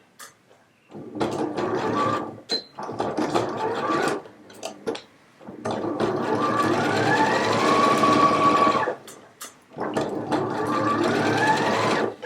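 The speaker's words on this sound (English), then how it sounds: "Now I'm going to come back and sew up that side seam with the pocket." A sewing machine stitches a jacket side seam with a pocket, running in four loud bursts of rapid mechanical clatter separated by short pauses, the longest run steady for a few seconds.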